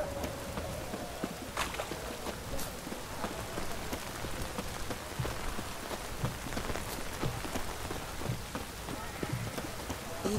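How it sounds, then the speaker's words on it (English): Steady rain patters continuously across surfaces, a dense and even hiss with scattered drop hits. It stays at a moderate level throughout, with faint voices in the background. "It's raining, of course."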